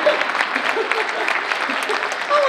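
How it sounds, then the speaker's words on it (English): Audience clapping at a live talk event, a dense steady patter of many hands through the whole stretch, with a voice briefly speaking over it toward the end. "So yes, you can clap for that, girl. You can clap for that."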